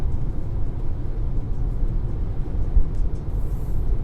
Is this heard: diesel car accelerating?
yes